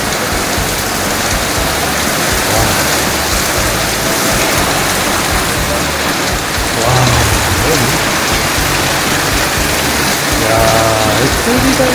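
Heavy rain pours down in a dense, loud, continuous roar of water hitting surfaces, with a few faint voices briefly audible beneath the downpour.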